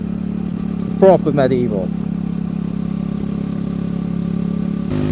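A 2024 Triumph Speed 400 motorcycle engine humming steadily as it rolls on at road speed, with a brief burst of someone talking near the start over the constant drone and wind noise.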